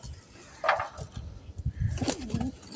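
Pigeons kept in a loft coo in short soft bursts close by, with some faint rustling and chirps between the calls.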